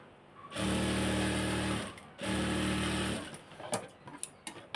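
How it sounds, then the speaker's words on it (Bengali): A sewing machine stitches dress fabric in two steady, loud runs of close mechanical whirring separated by a short pause, followed by light clicks and handling noises. "আমি কিন্তু একটা করে সাইড আপনাদেরকে সেলাই করে দেখাচ্ছি যেন আপনারা বুঝতে পারেন।"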